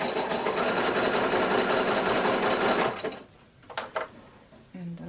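Hand-crank sewing machine stitching a quilt block, a dense steady whirring run for about three seconds, then it stops, leaving a few soft clicks and knocks and a short voice near the end.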